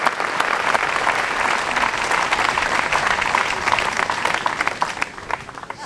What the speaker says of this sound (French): Et ils méritent bien vos applaudissements.